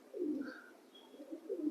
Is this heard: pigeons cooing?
yes